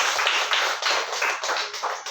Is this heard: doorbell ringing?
no